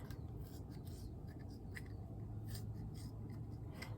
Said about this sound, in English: I'll grab my pair of scissors over here